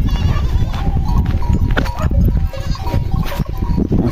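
Goats bleat repeatedly at a farm where a sick nanny goat with an udder problem is among the herd, several overlapping calls close by over steady background noise.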